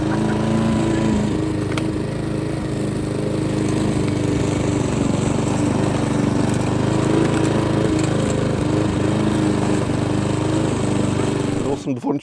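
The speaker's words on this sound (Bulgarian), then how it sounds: "Доволен, че успях да подкарам косачката" A petrol lawn mower runs steadily while cutting grass in a village yard, a loud, close, continuous engine drone that cuts off abruptly at the end.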